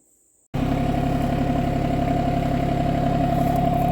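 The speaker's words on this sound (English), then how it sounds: "I got to start the tractor back up." Branson 2505h tractor engine cranks to life after a brief silence, catching abruptly and settling into a loud, steady, even-pitched diesel idle close by, with no talking.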